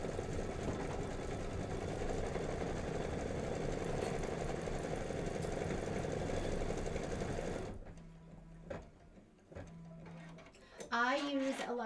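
An embroidery machine stitches out a decorative pillow design, its steady mechanical whir running loud and continuous for most of the stretch before stopping, leaving scattered clicks and a brief voice near the end.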